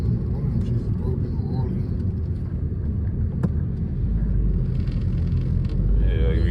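A 2015 Chrysler 200 with a broken motor mount, its engine vibration felt as a steady low droning rumble inside the moving car, running throughout beneath people talking.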